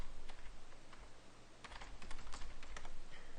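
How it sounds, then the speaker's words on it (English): Someone types an email on a computer keyboard with quiet, uneven clicks that pause briefly and then come back in quicker bursts, with no voice. "I'm going to put my email. If I can type my email."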